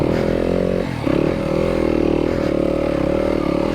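A Yamaha YZ250FX dirt bike in second gear works through slow single-track trail, its engine droning close and steady with a brief dip in revs about a second in before it pulls again.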